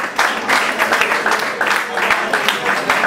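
Steady crowd applause rings out in a small literary café hosting a song-competition event, many hands clapping continuously at close range, with some voices mixed in.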